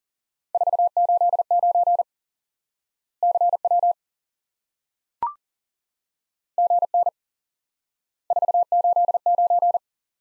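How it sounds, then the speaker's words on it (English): Morse code tones send the number 489 in an amateur radio lesson, heard as steady clean beeps in three spaced groups with one sharp click between them. No one speaks. "Four, eight, nine, CW."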